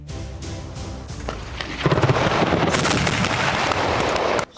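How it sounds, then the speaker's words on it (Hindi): Russian army field exercise in an open field: a burst of rapid gunfire cracks gives way to a dense, continuous roar of artillery and small-arms fire, loud and rumbling, with sharp reports scattered throughout. "खुला मैदान, गोलियां, तोप फायरिंग का शोर, ये रूस की सेना है जो युद्धाभ्यास कर रही है।"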